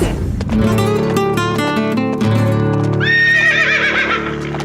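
Thoroughbred-type polo horses in winter, one giving a loud, close, quavering whinny while hooves clop underneath, steady and prominent throughout.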